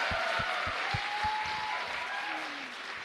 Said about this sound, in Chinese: 我们再一次用最大掌声，谢谢游牧师今天晚上带来美好的信息。